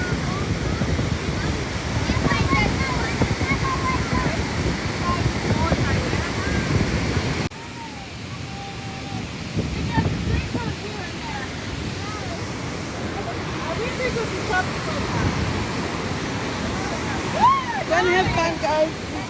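Roaring broadband rush of Victoria Falls on the river at low water in the dry season, a steady loud wash with wind buffeting the microphone and people talking faintly over it throughout.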